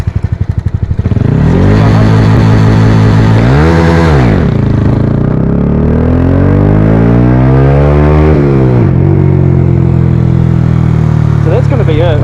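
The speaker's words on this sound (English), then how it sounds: "open launch, clutch drop basically, and launch it" A Honda Wave 125i underbone motorcycle bored to 143cc, held at a loud buzzing high rev near 10,000 RPM, then launched with a clutch drop: pitch dips and climbs through first gear, close and continuous.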